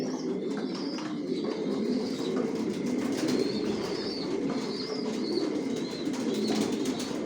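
Racing pigeons coo and murmur steadily inside a loft, with occasional soft chirps and wing rustles over a constant flock hum.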